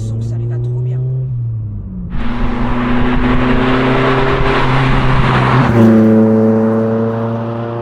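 A Ford Focus RS Mk1 with a turbocharged engine, heard from the cabin, revs and accelerates hard in a loud rising roar, then shifts gear and keeps pulling with a steady climbing pitch.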